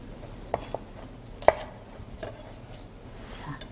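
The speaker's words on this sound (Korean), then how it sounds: "샐러리도 섬유질을 제거해서 적당한 사이즈로 채로 썰어 주시면 됩니다." A knife julienning celery on a cutting board during a canapé cooking lesson: a few sparse, light taps and thuds against the board at irregular intervals, fairly faint over quiet room noise.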